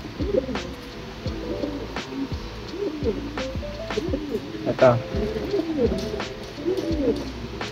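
Imported pure-line pigeons coo repeatedly in soft, low rolling calls, several birds overlapping close by, while someone speaks briefly over them.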